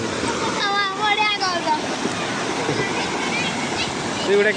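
Flood water rushing over a village bridge during rain, a continuous loud wash of flowing water with wind noise, while people talk over it.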